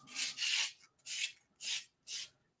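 A small handheld sander works over a 3D-printed zombie conquistador figure, giving four separate bursts of close, bright rubbing and rasping with short pauses between them and no talking.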